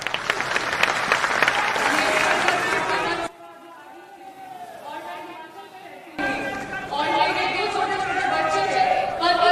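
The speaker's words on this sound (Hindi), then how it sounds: "बस एक बार पहले जोरदार ताली से इसका स्वागत" An audience at a Jan Suraaj state-level workshop in Bapu Sabhagar, Patna, bursts into loud, dense applause that drops away to a quieter stretch in the middle and then surges again to sustained clapping.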